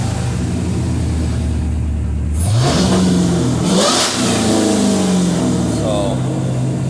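A Hellcat 5.7L engine, just restarted after losing throttle response, idles loudly then revs up sharply in rising and falling sweeps, close and prominent, with a person talking over it.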